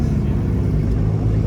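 Porsche GT3 base model engine idling and rumbling up close at a custom car meet, a steady loud low drone filling the short moment.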